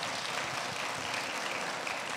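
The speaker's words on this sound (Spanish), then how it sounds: "Por favor, todos sus aplausos." Applause from a university audience at a branding presentation for a business administration faculty, greeting the unveiling of a new logo: a steady, faint wash of clapping lasting the whole moment with no talk over it.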